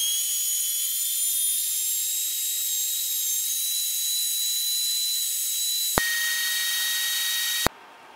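An electric juicer runs while making tomato juice, giving a steady high-pitched motor whine that stays constant for several seconds, shifts pitch briefly near the end, then cuts off abruptly, loud and close with no talking.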